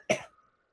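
A single short, close cough from someone who has just choked on a sip of a drink. It is followed by silence.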